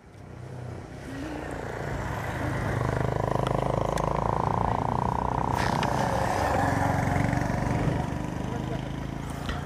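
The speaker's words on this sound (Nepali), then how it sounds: "पछाडिएर बाइकहरू घुइकिरहेका छन्" Motorbikes rev behind the listener on a mountain road through a landslide area in Arghakhanchi, Nepal, a loud engine drone swelling in the first seconds and then holding steady.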